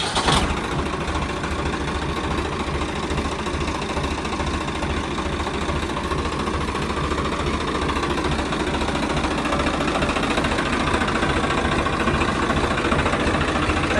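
A Swraj 855 FE tractor's diesel engine catches almost at once and settles into a steady, throbbing idle. The rumble is loud and close and stays even throughout, with no talk over it.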